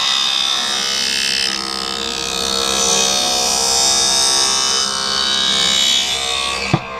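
A lens edging machine grinds a bevel onto a polarized Ray-Ban 4105 Folding Wayfarer lens, a loud, steady, high whining drone that holds for several seconds and ends with a sharp click.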